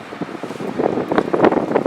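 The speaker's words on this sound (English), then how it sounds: "it is quite windy" Gusty wind buffets the microphone inside a glassless railway station waiting shelter with a rough, rumbling roar that swells and fades, close and fairly loud.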